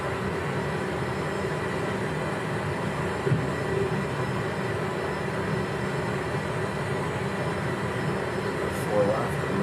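A FedEx airliner's takeoff roll at Newark in a flight simulator, with rain: a constant, dense roar of engines and rain noise that holds steady throughout with no distinct breaks.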